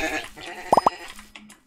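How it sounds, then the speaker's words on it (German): Three quick sheep bleats in the blocky survival game MineClone5 on Minetest, clustered close together and fairly loud over a soft ambient game background, with no talking. "Also so viele Schafe hier."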